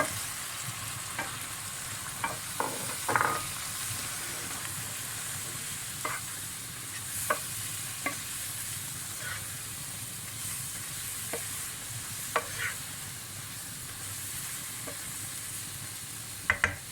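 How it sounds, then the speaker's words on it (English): Spices being stirred into tomato and onion frying in a pot for dhal gosht: a continuous loud sizzle and hiss with scattered scraping spoon knocks, no talking. "What we're going to do now is add in the spices, give it a good stir."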